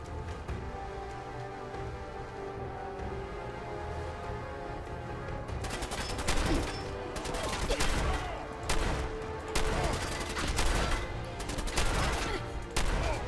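Gunfire from Fallout 4: a quieter stretch of low rumbling gives way to dense, loud bursts of rapid automatic shots clustered in several volleys, with occasional talking mixed in.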